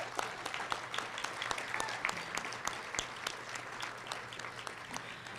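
Audience applause for an outgoing 2021 leadership team at an installation ceremony, a steady wash of many hands clapping with sharp individual claps standing out, sustained throughout over a low constant hum.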